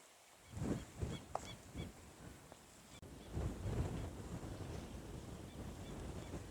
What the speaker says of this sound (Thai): น้ำมันไหลลงเสียงดังอยู่เวลาลมพัดมัน